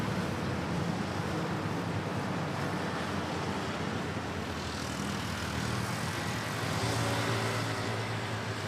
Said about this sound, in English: We have now an Air Asia A320 arriving from Calibo